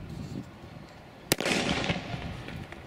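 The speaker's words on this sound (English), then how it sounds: "Now you put the gun up directly over your head so that the timekeepers can see it." A starting pistol fires once to begin a race: a single sharp crack in the middle, followed by a diffuse crowd-like wash over steady outdoor background noise.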